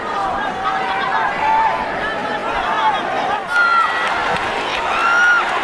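A boxing arena crowd at a Pacquiao vs Marquez fight keeps up a steady roar of chanting and cheering, with rising whoops and a swell near the end, under continuous commentary.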